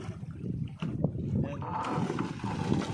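A fishing boat's engine runs on the Andaman Sea as a steady low rumble with broadband wash throughout, close by, while several people talk over it.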